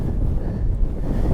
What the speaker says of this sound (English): Got to be careful here as the wind starts blowing.